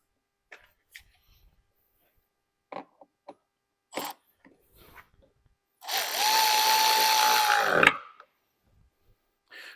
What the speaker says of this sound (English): I'm going to tighten this bolt here at the top